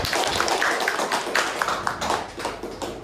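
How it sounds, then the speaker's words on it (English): An audience at a club meeting claps for a completed speech project, giving dense, continuous applause with scattered sharper claps that stay fairly even before easing slightly at the end. "So we can give a very big applause for that."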